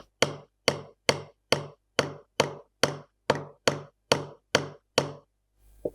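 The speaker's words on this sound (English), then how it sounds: "we will start tapping the chisel with the help of mallet" A mallet tapping a chisel into jaw bone during a dental ridge split, about a dozen crisp, evenly spaced knocks, close and loud, each decaying quickly.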